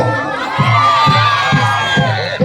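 A Bihu festival crowd at night cheers and shouts together in a loud, continuous roar with a few pulsing swells of yelling.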